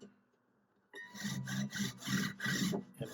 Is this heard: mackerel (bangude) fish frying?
no